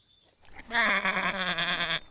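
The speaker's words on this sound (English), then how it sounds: "These are the sheep." A cartoon sheep gives one loud, sustained, wavering bleat of over a second, close and clear over a quiet background, with no talking.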